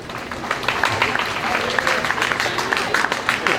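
An audience claps at a college first-year convocation, dense, steady applause filling the hall at close range, with a voice audible beneath it.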